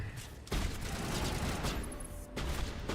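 Sniper rifle shots in the video game Mass Effect, with two sharp loud blasts whose booming tails spread across the clip, plus a faint high electronic tone in between.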